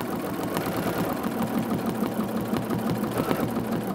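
A sewing machine stitches steadily in free-motion quilting, running black thread for thread painting on an art quilt, a close, continuous rapid mechanical chatter with no talking.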